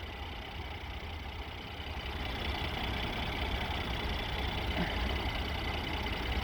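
A 3.0-liter twin-turbocharged V6 in a Mercedes-Benz GLE 43 AMG idles with the hood open, a steady, close, low rumbling drone that swells slightly and holds evenly, with no talking.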